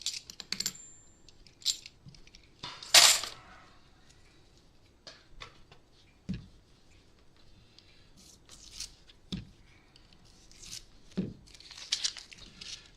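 Paper coin rolls holding new 2023 D coins are torn open with a string of crisp rips and small clinks of coins spilling, scattered irregularly with quiet gaps between.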